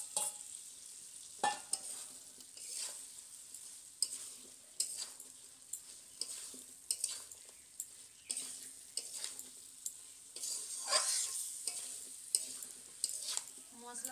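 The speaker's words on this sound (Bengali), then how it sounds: "মশলার সাথে এঁচড় আলুটা আমি কিছুক্ষণ ভালো করে কষিয়ে নিচ্ছি" Jackfruit and potato are stirred and fried with spice paste, a soft sizzle under repeated scraping strokes of a spoon against the pan at an irregular rhythm, close and fairly quiet.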